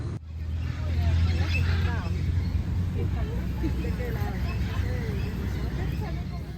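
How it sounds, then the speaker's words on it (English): Many birds chirp and call in the background on a street in Caracas, Venezuela, a busy chorus under a steady low rumble of traffic and distant murmuring voices. "You can hear in the background already a lot of birds."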